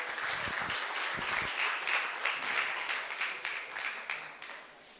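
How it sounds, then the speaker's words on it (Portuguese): An audience at a Pentecostal studies conference panel applauds steadily to welcome a panelist, a dense sustained clapping that carries throughout and tapers slightly toward the end, with a voice briefly audible near the start. "Vamos recebê-la com aplausos."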